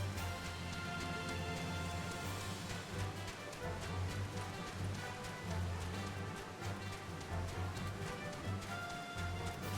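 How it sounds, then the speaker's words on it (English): Steady rain falling in the Final Fantasy XIV game world, a continuous, even patter of drops with a low ambient hum underneath, fairly quiet and unbroken, with faint game sounds mixed in. "The direction where the rain is coming from that way."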